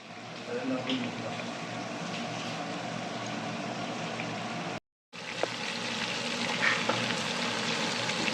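Food deep frying in a pan of oil in a home kitchen, a loud continuous bubbling sizzle close by, broken by a brief silence, with voices faintly in the background.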